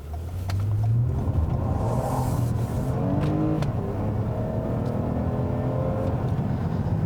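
A 2018 Toyota Camry XSE driving on the road, its engine revving up through rising pitch sweeps and shifts over a steady road and tyre roar, heard from inside the car with no talk.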